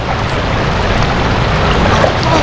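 Powerful floodwater current rushing past a farm where crops and a water pump were swept away, a loud, steady roar of churning water with no voices.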